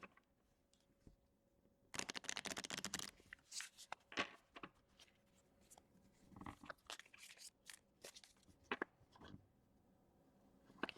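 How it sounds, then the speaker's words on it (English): A tarot oracle deck of slippery cards is shuffled by hand, a dense riffling burst followed by scattered softer flicks and taps, quiet and close with no talk. "I'm just going to shuffle it"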